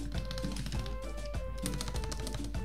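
Fingers type on a newly built mechanical keyboard fitted with Everglide switches, producing rapid, dense clacking keystrokes close up, continuous and without speech.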